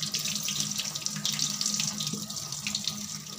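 Tap water runs steadily over fish fillets being rinsed for homemade fish fingers, a continuous close splashing hiss at a sink with no pauses.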